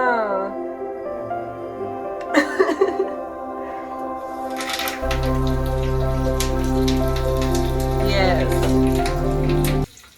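Tempering spices sizzle in hot oil in a home kitchen, a crackling hiss that builds and holds steady for several seconds before cutting off, while people talk over it throughout.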